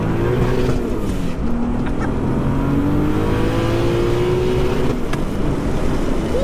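An 800 bhp sidewinder-turbo Mk3 VW Golf roars hard from inside, its engine note climbing and holding high near the rev limit, loud and continuous throughout.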